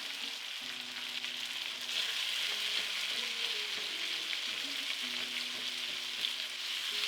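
Onions fry in a pan with red pepper flakes and paprika, giving a continuous soft sizzle and crackle. A few scraping stirs are heard, with no talking over it.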